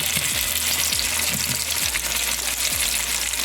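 Chopped onion and tomato frying in oil for lau daal, a loud continuous sizzle with occasional stirring scrapes, close up and without talk.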